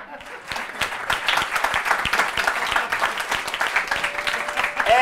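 An audience at a comedy show claps in a dense, steady round of applause that holds throughout, with crowd voices mixed in.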